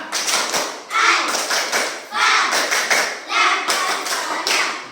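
Young pupils in a primary classroom perform a chanted 'tepuk bala' clapping routine, sharp claps and taps coming in grouped rhythmic bursts across a short span, close and fairly loud with children's voices mixed in.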